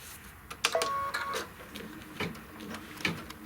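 An embroidery machine stitches a tack-down line around a leather piece in short, close bursts of rapid mechanical clattering and ticking, separated by brief pauses.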